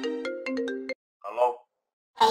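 A phone ringtone plays a short electronic melody, then the voices of people talking nearby follow in brief bursts.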